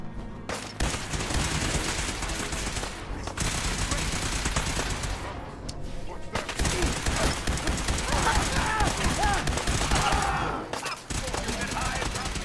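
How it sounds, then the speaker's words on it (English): Rapid automatic gunfire from a combat zone raider in Fallout 4 rattles in long, dense bursts with short gaps, loud and close, alongside game effects. "Did somebody just shoot me? Yeah, somebody did just shoot me."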